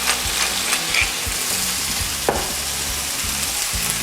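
Vegetarian curry with diced squash, black pepper and kosher salt being stirred in a hot pan: steady close sizzling frying with soft scraping stir strokes, no voices.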